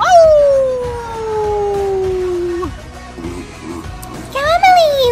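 A voice imitates a dog, letting out a long, sliding howl that fades downward, then a short break and a rising yelp-like howl near the end.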